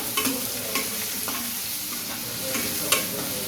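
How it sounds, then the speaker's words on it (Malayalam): Spicy potato curry with chili and turmeric powder is stirred in a pan, a continuous frying hiss with repeated soft scraping strokes close by. "നല്ല പോലെ ഒന്ന് ഇളക്കി കൊടുക്കാം."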